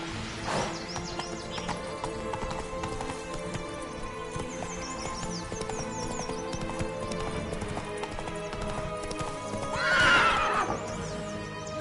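A horse in The Witcher 3 gives a loud whinny near the end, with hoof clip-clops earlier, over a dense game soundtrack and ambience.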